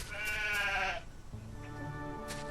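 A sheep bleats loudly in the Solarpunk video game, one long wavering call up close, then a quieter second bleat trailing off over a soft ambient background.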